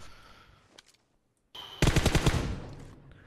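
Automatic gunfire in the mobile battle royale game PUBG Mobile rattles off in a loud rapid burst after a few faint shots and a short silence.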